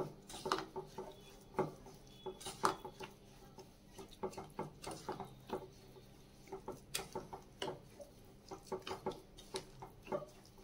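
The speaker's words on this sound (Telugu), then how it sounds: "రవ్వని షుగర్ సిరప్లో యాడ్ చేసిన తర్వాత ఈవెన్గా కలుపుకోండి వెంటనే" Semolina being stirred into sugar syrup for rava laddu, a faint, irregular series of soft clicking and scraping taps from a spoon in a pan, close by and without talk.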